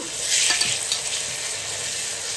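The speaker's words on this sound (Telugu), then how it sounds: "అల్లం వెల్లుల్లి పేస్ట్ పచ్చివాసన పోయే వరకు వేయించుకుందాం" Ginger garlic paste fries in a hot pan with a steady, loud, close sizzle and occasional stirring scrapes, with no voices over it.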